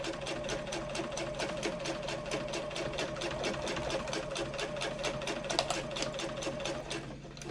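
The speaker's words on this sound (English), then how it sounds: "sew up towards the top of the panel" A sewing machine sews up a handbag's front panel toward the top, with a rapid, even needle clatter over a steady motor hum, close and sustained without pause.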